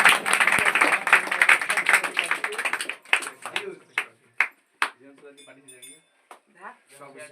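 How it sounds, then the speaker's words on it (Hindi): Applause at a village institute prize ceremony for board exam results: a crowd claps loudly and steadily for about three seconds, then the clapping gives way to scattered clinks and people talking. "मयंक के लिए एक जोरदार ताली का स्वागत किया जाए।"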